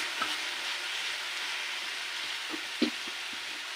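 Sauce and chili powder being stirred over very low heat in a pan for chicken Manchurian, a soft steady sizzle with a few light scraping knocks of the spoon.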